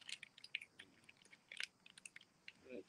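Candy being chewed close to the microphone: faint, irregular crunchy bites and wet mouth clicks over about three seconds, quiet, with a little muffled voice in the background.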